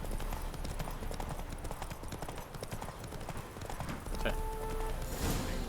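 Horse hooves clip-clopping in The Witcher 3 video game, a fast, steady run of close hoof beats that slows near the end, with a brief voice and faint music over it.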